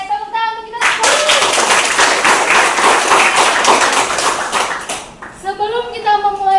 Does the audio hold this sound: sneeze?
no